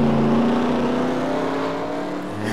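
A race car engine drones steadily as the car comes around a corner, its pitch sliding gradually lower, loud and close, with a slight change in tone just at the end.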